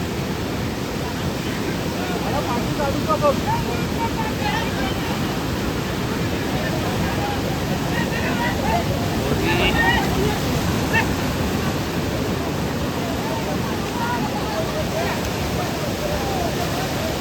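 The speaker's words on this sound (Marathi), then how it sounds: "आता हे पावसाचे दिवस आहेत त्याच्यामुळे हे सगळे लाटा आपल्या बघूक मिळतात" Big monsoon-season sea waves wash continuously along the shore where traditional rapan net fishing takes place, a dense, unbroken roar of surf with occasional brighter splashes.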